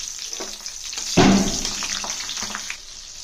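Slit green chillies coated in salt hit hot oil with a sudden loud burst of sizzle and crackle that then settles into steady frying hiss, close up, with no talk.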